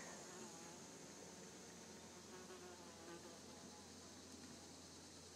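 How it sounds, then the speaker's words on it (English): A large bee buzzes and flies around close by outdoors, a faint steady drone over quiet wilderness ambience with no talking. "that was a huge bee that came and just checked me out and flew away"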